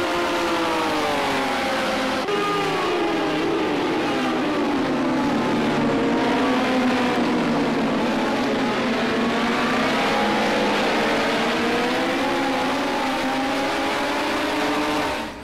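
Porsche race car in a racing video game from a Porsche Legends add-on pack, its engine revving continuously with loud, sweeping pitch rises and falls as it works through gears, with tire noise underneath and no talk.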